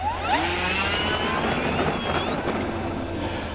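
FMS Zero RC warbird's electric motor at takeoff on a bumpy field with flaps down, a steady loud whine with rising pitch over rumbling wind, continuous throughout.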